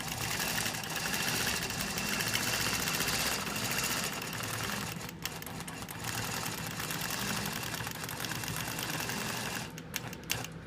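A sewing machine stitches the third arc of a Baptist Fan quilt, giving a steady, dense, fast mechanical whirr and rattle close by that runs almost without pause, with a couple of brief dips, and nobody speaking.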